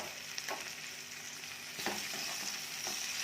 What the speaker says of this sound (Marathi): कांद्याचा रंग बदलेपर्यंत छान भाजून घेऊया.